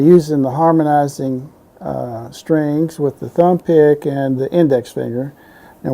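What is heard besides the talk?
No distinct noise like a dog, phone or traffic.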